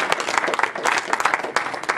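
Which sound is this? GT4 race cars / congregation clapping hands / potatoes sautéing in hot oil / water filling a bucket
congregation clapping hands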